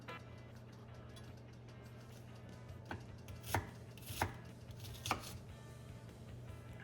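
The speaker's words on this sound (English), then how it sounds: "So I start with chopping an onion." A knife chops an onion on a cutting board in a home kitchen, a handful of sharp, separate strikes spaced about a second apart over a constant low hum.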